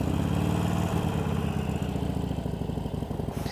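A Harley-Davidson Forty-Eight motorcycle idles close by, its V-twin engine giving a steady, loping rumble with a rhythmic pulsing beat that holds for several seconds.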